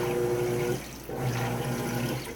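Washing machine agitating on a cold wash cycle, a close, full sloshing churn of water with a brief pause midway before the swishing resumes.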